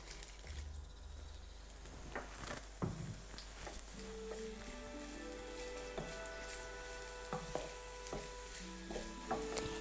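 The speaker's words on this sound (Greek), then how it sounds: "πρώτα θα σοτάρουμε τα φρέσκα κρεμμυδάκια μας" Fresh spring onions sautéing in hot oil in a frying pan give a steady, faint sizzle with occasional stirring clatters and a low hum underneath.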